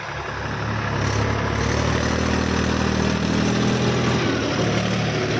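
A tractor's diesel engine rumbles close by at a steady, low, even pitch while reversing, running continuously without pauses.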